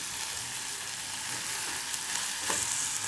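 Tomatoes fry in a pan of oil with dried red chillies for a beef curry. A continuous soft sizzle and light crackle runs throughout, with a few faint stirring knocks, and no one speaks.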